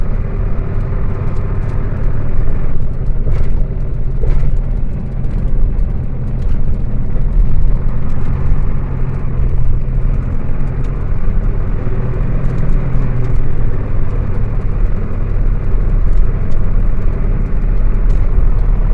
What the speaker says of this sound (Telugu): పైపులు వేసుకొని పోతుంది బండి, అందుకే మొత్తం జమ అయిపోయినాయి బండ్లు, మెల్లగా పోతున్నాయి